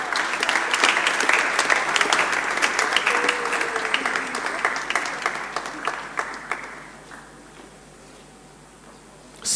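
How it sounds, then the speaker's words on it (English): Audience applause at a school graduation and prize-giving ceremony: dense, steady clapping from a large crowd that holds for about seven seconds, then tapers off into quiet room tone. "Round of applause for him."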